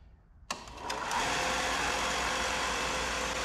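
A Woodskil disc and belt sander starts with a sharp click and spins up into a loud, steady whirring hum that holds for several seconds, close by and without speech.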